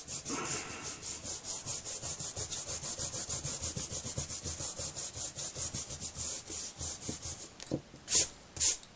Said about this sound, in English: Then just take your rubber,